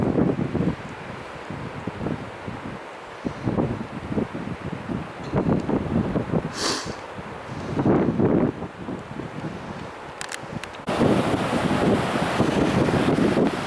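Wind buffets the microphone on Utah Beach in Normandy, with a steady broadband wash of ocean surf behind it, loud and continuous, swelling louder toward the end.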